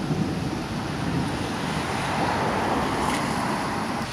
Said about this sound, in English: water running around the drain and going down the roadway